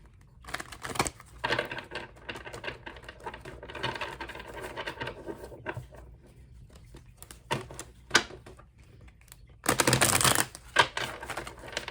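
Rapid papery riffling and soft slaps of tarot cards being shuffled, in uneven bursts with short pauses and a louder flurry near the end.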